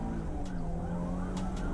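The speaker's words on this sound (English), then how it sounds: "When the officer turns on his lights and sirens, the driver in the white Nissan decides to start a police chase." Police car siren wailing during a high-speed chase of a white Nissan in Duluth, rising and falling steadily over a constant rumble of traffic and engine noise.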